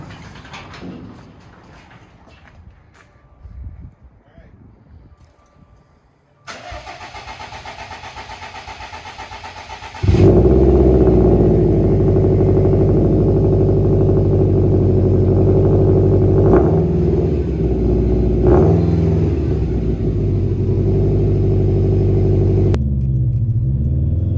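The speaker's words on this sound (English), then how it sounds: "about to do the first start with the new downpipe" A 2018 Subaru STI fitted with a new COBB downpipe starts for the first time. It cranks, then catches with a loud, deep exhaust rumble and settles into a steady, throaty idle before the sound cuts off near the end.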